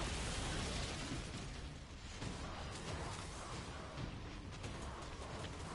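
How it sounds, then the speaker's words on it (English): A grenade blast in the Destiny 2 video game, heard as a loud, broad explosive roar that fills the whole stretch with dense rumbling and debris-like crackle, no voices over it. "drop the grenade."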